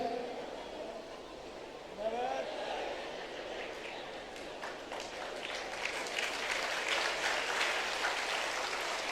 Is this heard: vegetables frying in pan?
no